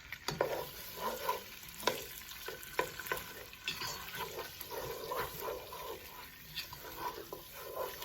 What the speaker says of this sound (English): And I'm going to stir it up in here for about maybe 3 or 4 minutes